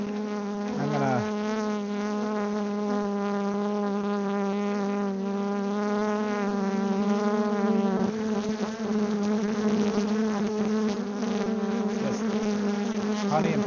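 Dense, steady buzzing of many honey bees around a smoked hive on a maple farm, loud and close with a continuous droning hum throughout.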